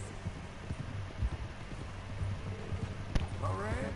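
Horse hooves clip-clop steadily on the ground in the video game Red Dead, a regular, moderately close rhythm under low ambient noise, with a brief whinny-like call near the end.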